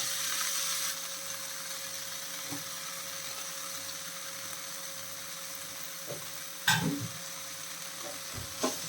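Drumstick leaves and grated coconut are stirred in a pan: a soft, low sizzle with occasional spatula scrapes and knocks, the loudest clatter coming late, with no voices.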